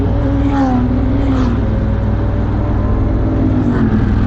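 Motorbikes pass on a mountain road on the ride to Jebel Jais, their engines sweeping by close under constant loud wind and road rumble from the moving rider.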